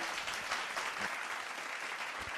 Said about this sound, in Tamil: அதியனுடைய குடும்பத்துக்கு ஒரு உற்சாகமான கைத்தட்டல்களால் நம் நன்றியை பதிவு செய்வோம்.